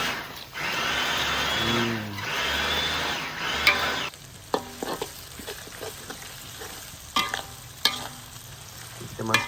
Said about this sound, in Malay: Lepas tu kita tumis barang-barang yang kita blend tadi.